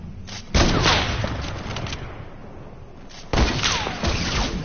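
Heavy gunfire from a video game match: two loud bursts of shots, one near the start and another about three seconds later, with rattling echoes trailing between them and no talking.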